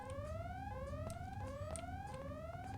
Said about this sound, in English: Why is the alarm going off?